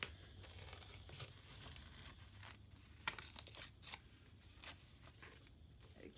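Paper torn by hand for a notebook journal, a slow, deliberate rip: soft, close tearing and crinkling in short bursts, faint and without speech.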